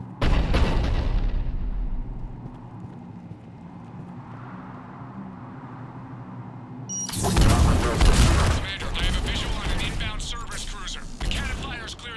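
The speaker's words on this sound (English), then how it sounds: "Looks like Cerberus got that cannon operational, Commander" A cannon fires in the video game Mass Effect Legendary Edition with a loud, sudden blast about midway that is followed by sustained heavy rumbling and crackling. A quieter stretch with low drones and a voice comes before it.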